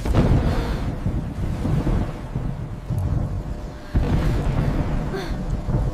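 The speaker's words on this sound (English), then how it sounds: "Thunder is so loud!" Deep rumbling thunder rolls loudly, with a sharp crack partway through followed by more heavy low rumbling.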